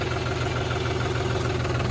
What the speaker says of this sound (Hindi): अब हम निकालेंगे ट्रैक्टर को बाहर